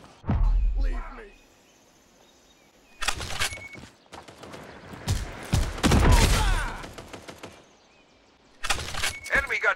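An enemy turret firing in the video game Modern Strike Online: rapid bursts of gunfire come in clusters separated by quieter gaps, mixed with game voice lines and effects.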